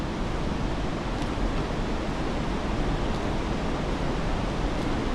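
Steady broadband rush of a river flowing below steep stairs near Pagsanjan Falls, constant and close with no talking.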